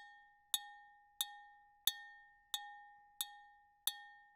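A compressed beat made from household items: six evenly spaced, bright glassy clinks, each with a sharp attack and a quick decay, over a steady ringing tone, played alone with no voices.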